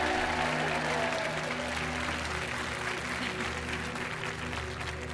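Studio audience applause on the French TV game show Money Drop: a dense, steady wash of many hands clapping for the full stretch, with background music running underneath.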